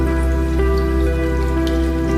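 Heavy rain pours down in a steady, dense hiss that stays at the same level throughout, with a constant low hum underneath and no speech.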